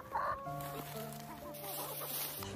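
Chickens on a hillside farm cluck in short, quiet calls, with a few repeated notes close by in an otherwise calm setting.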